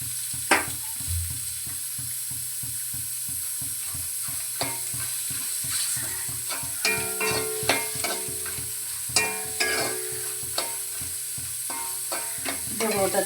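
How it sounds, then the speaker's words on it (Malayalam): Coconut pieces drop into hot oil for a Kerala-style pork fry and sizzle continuously, with repeated scraping stirs and occasional sharp metallic clinks of the spoon against the pan, fairly close and with no voices. "നമുക്ക് ഈ തേങ്ങാക്കൊത്ത് ചൂടായ എണ്ണയിലോട്ട് ഇടാം."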